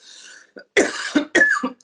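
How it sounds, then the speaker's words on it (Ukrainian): A few short, harsh coughs come in quick succession after a brief faint sound, close and fairly loud. "коли в мене першить в горлі я кашлюю"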